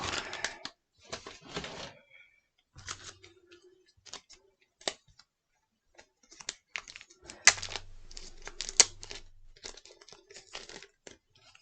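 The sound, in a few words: tearing open a taped mail package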